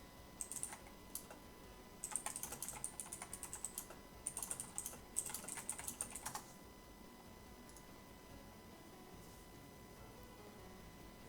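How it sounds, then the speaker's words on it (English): A computer keyboard is typed on in short bursts of quick, close clicking keystrokes, separated by pauses and fading to quiet room tone after about six seconds. "I just hear typing"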